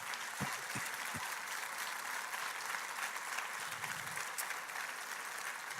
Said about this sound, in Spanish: Aplaude la misericordia de Dios.